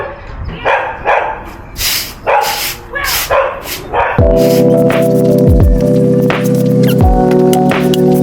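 A dog barks repeatedly, loud and close, in quick bursts over a few seconds, followed by a steady droning tone.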